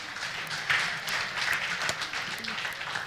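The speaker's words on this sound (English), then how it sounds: "Can someone just clap for me for it?" Audience at a tech conference clapping, a moderate, fairly quiet patter of scattered hands in a large room, brief and uneven, with some bursts standing out.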